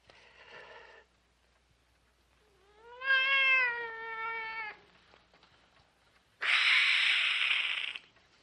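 A cat meows twice in a quiet room, a short soft cry followed by a longer, louder drawn-out meow, then a sharp hissing spit near the end.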